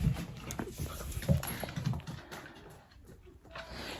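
A small one-year-old Caconi dog pants and shuffles close by, with soft rhythmic breaths and light scuffling movement over a quiet room background.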